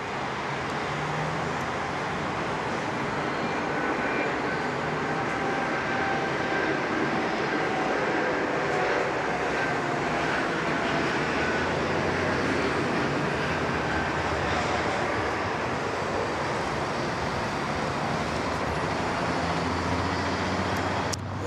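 A passenger jet takes off from runway 34 left at Sydney Airport, bound for Tokyo, heard as a loud, steady broadband engine roar that holds without a break for the full twenty seconds.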